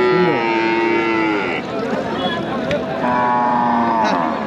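Cattle low loudly at a busy rural cattle market in Muktagacha, Mymensingh, with several long close moos overlapping amid crowd noise and a faint engine hum.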